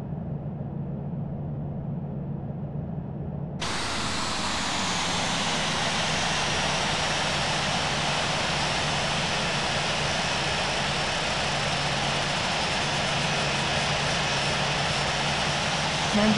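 Boeing 787-9 jet engines spooling up for takeoff on a runway in the Infinite Flight simulator, a sudden loud jump to a steady, broad roar after a quieter idle hum, sustained and close.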